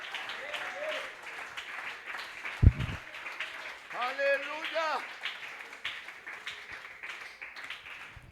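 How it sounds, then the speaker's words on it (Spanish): A church congregation claps and applauds during an evening Pentecostal service, a soft, fairly distant patter of hands under a preacher's voice, with one sharp knock partway through. "Alguien que me le dé un fuerte aplauso al Rey esta noche."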